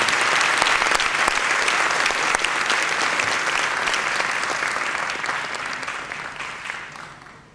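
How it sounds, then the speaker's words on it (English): Loud applause rises from an audience at an awards and medals ceremony. Crisp individual claps stand out within the dense clapping, which gradually dies away at the close. "Let's give them a big round of applause."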